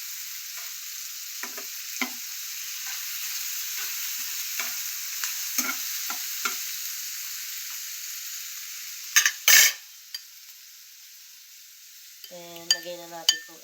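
Tomatoes fry in a little oil in a pan with a steady hiss, broken by occasional stirring clicks and a few sharper scrapes near the end.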